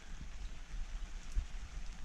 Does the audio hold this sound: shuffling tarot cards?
no